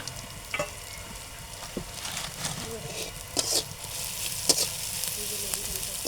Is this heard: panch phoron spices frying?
yes